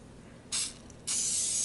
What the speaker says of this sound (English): I'm using just some coconut oil spray